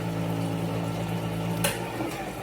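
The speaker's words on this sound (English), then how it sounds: "So, cold water. While it's rinsing my black beans" Cold tap water runs steadily over black beans in a kitchen, a continuous close hiss and splash with a brief brighter burst near the end.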